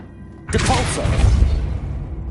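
Depulso spell effect in Hogwarts Legacy: a sudden loud whooshing burst followed by heavy thudding rumble and debris-like crashing that decays over a second or two.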